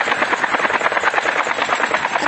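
A helicopter in the mobile shooter game Call of Duty Mobile flies close by, its loud, rapid rotor chop pulsing steadily and evenly throughout with no speech over it.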